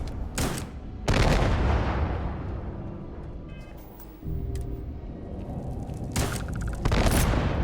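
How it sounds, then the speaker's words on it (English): Repeated loud cluster-bomb blasts from a weapon in Starfield, a sequence of heavy booms and rumbling detonations with sharp cracks, filling the whole stretch with dense, overlapping explosive noise. "it throws like cluster bombs down"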